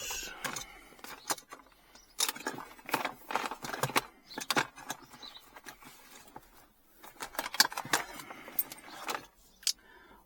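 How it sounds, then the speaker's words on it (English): A metal spanner is taken out and handled beside a Kia EV6. Light metallic clinks and jangles come in scattered bursts, close by and fairly quiet, with pauses in between. "Get the spanner out."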